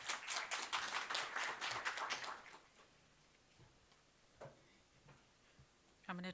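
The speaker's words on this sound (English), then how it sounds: "So you can give a round of applause, please." A short round of applause from a small audience greeting a speaker at a podium, brisk scattered clapping for about two seconds that quickly fades into quiet room noise with a few soft knocks.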